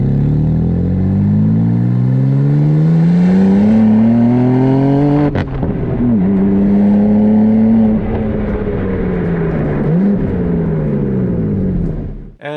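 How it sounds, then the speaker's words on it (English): A BMW M2's inline-six engine revs loudly and up close, its pitch climbing steadily, dipping, then rising and falling again through several sustained throttle sweeps before cutting off sharply at the end. "the inline 6 of the BMW M2 made some pretty good noises"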